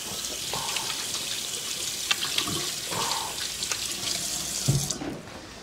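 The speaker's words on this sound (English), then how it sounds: "Wash your hands." Water runs steadily from a tap during handwashing at an outdoor camp cooking setup, a close continuous splashing hiss with a few small knocks, then cuts off near the end.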